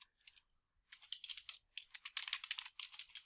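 Fingers typing on a computer keyboard, a near, quiet patter of rapid key clicks in short bursts with a brief pause near the start, no voices.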